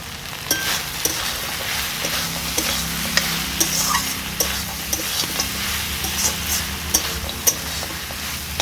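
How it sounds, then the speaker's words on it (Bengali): Kalmi greens tossed with ground cumin and coriander in a pan, a steady soft sizzle under repeated scraping and clinking stirs from a spatula, close and continuous with no talking. "জিরে গুঁড়ো আর ধনে গুঁড়ো দেওয়ার পরে শাকটাকে আবার ভালো করে নেড়ে চেড়ে নেব।"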